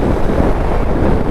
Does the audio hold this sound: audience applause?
no